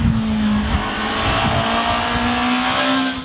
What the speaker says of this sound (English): the engine noise, I think it's a bit softer than the previous model